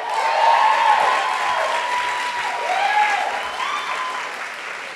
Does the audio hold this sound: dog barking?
no